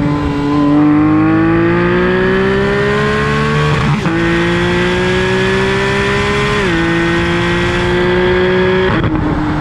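A Porsche 911 GT3 (991.1) engine revs hard while driving, loud and close, its pitch climbing steadily through each gear before dropping at the shifts, repeated several times with no talking.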